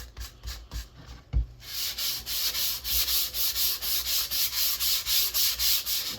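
Sandpaper rubbed by hand across a model rocket body, an Aerotech Sumo kit, in steady rhythmic back-and-forth strokes that sound close and clear and come after a few scattered taps and scrapes.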